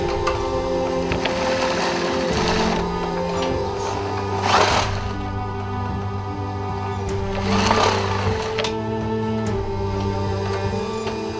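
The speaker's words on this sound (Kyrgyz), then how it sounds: "Колунан көөрү төгүлгөн Мээрим айым буйрутма менен үйүнөн баардык кийимдин түрлөрүн тигет." Home sewing machine stitching garments, a continuous close mechanical whir with a steady motor hum and needle clatter, swelling slightly twice, with no talk over it.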